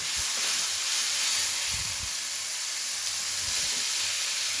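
Tomato pieces frying in a pan for a rohu fish dish give a steady, close sizzling hiss, with faint stirring knocks and no talk over it.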